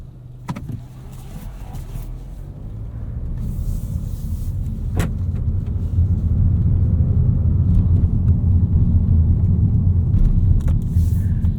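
A 2023 Mazda3 2.5 S Carbon Edition AWD hatchback drives along, a steady low road and engine rumble inside the cabin that swells gradually, with a few faint clicks.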